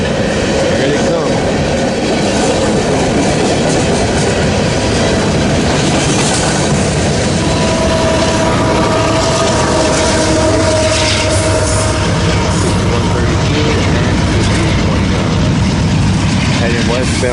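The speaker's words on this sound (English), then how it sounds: "Heading westbound on the rear end of this empty coal drag, westbound, Ashland, Nebraska." An empty westbound coal train passing at close range near Ashland, Nebraska, with rear pusher locomotives: a loud, continuous rumble of rolling cars with wheel squeal and rhythmic clatter.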